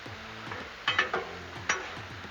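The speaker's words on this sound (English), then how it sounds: "every now and then just come back and give your chicken a stir" Chicken for Korean sweet fire chicken quesadillas is stirred on a Blackstone griddle, a few scraping spatula strokes and clinks over a soft, steady sizzle, heard close and alone.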